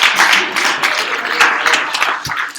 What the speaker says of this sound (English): Oh, I need applause for that.